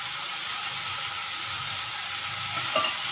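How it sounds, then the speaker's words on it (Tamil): Tomatoes sauté with rock salt in a pan for a fish fry curry, giving a steady, close sizzle and hiss that runs unbroken throughout, with a faint stir near the end. "தக்காளி போட்டு நல்லா வதக்கிக்கலாம்"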